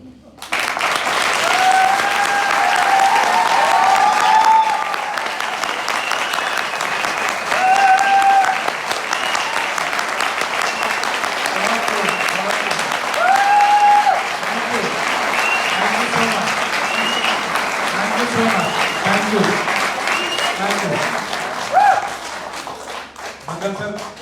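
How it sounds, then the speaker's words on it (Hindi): Sustained audience clapping at a festival conversation event in India, dense and continuous for over twenty seconds with slight swells and dips, and scattered voices and shouts in the hall underneath. "एक बार आप लगातार बिना रुके कम से कम 60 सेकंड की तालियां चाहिए मुझे।"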